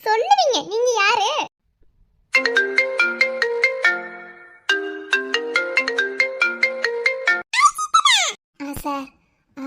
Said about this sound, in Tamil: சார், இதோட 4 டைம் ஃபோன் அடிச்சிருச்சு.